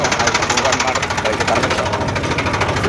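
A tractor engine runs steadily and close by on a farm while cattle feed is loaded into its trolley, a continuous loud rumbling chug with dense rapid pulsing throughout.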